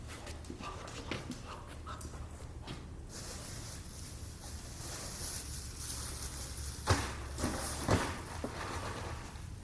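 A puppy panting softly in quick, steady breaths, with a few light scuffs and movement noises nearby.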